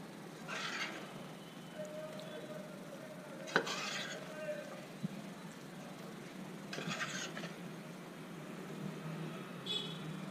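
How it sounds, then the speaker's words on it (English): Prawns are mixed into prawn biryani in a pot, with a few separate bursts of spoon scraping against the pot over a low, quiet background. "going to transfer back the prawns. Give this a good mix."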